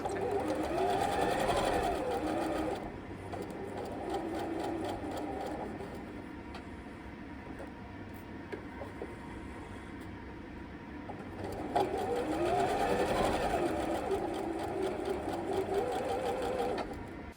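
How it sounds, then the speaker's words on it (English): A sewing machine stitching quarter-inch seams on a flying geese quilt block, running in steady whirring bursts with a pause in the middle, close and clear with no talk. "And now we want to sew a 1/4 inch from both sides of this line."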